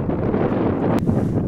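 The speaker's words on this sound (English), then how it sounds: "Can you feel the wind on your face?" Wind buffeting the microphone across a 1000-yard shooting range, a loud, rough rumble that stays steady throughout the short moment.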